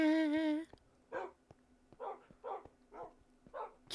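Dogs in the video game Minecraft give a string of short yips and barks at a steady pace after a brief high whine, sounding moderately close and fairly quiet.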